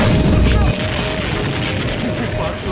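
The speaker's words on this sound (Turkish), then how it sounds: "Lan şimdi patlayacak." A deep, heavy boom from a PUBG Mobile explosion at the start, trailing into a noisy rumble.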